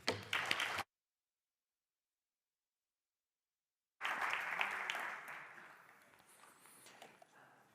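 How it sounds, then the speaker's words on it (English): Applause from a conference audience for a speaker: a short clatter of claps cuts off into silence, then a fresh round of clapping rises and slowly tapers off. "So please give Héctor a big applause."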